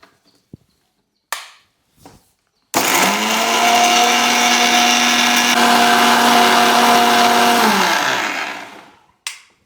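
A kitchen blender grinds cumin, black pepper, dried red chillies, fresh coriander and garlic. A few clicks come first, then a loud, close, steady whirring grind lasts about five seconds before winding down and stopping.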